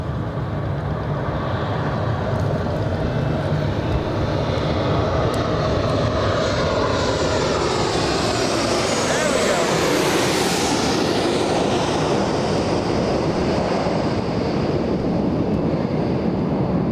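A Delta airliner landing at Los Angeles International Airport: a loud, sustained jet roar close by, with a whine that sweeps up and then falls away as the plane passes. No talk.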